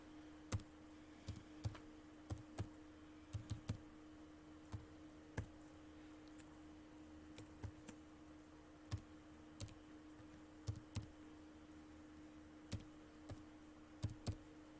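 Keys tap on a computer keyboard as an email address is entered, giving irregular soft clicks in small clusters with pauses between them, close and quiet over a faint steady hum, with no talking.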